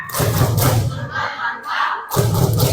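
A group of women at a gathering does a rhythmic clapping chant, with loud unison claps and shouted words in short bursts separated by a brief pause.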